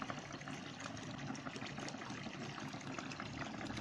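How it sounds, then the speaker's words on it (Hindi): Water flows steadily from a solar-powered home water pump running directly off two solar panels without a battery, a continuous, even rush with no talk. "आप देख सकते हैं कि पानी का बहाव भी काफ़ी सही है और ये मोटर काफ़ी ठीक चल रही है"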